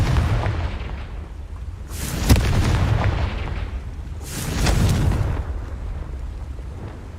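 Two deep, rumbling blasts from the Confringo explosion spell in the video game Hogwarts Legacy, each a sharp burst that swells and then fades, about two seconds apart, over a steady low background.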